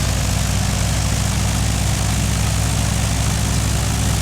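Propeller aircraft engine from the Prepar3d flight simulator, a steady, loud drone with a constant low throb that holds evenly throughout with no talking.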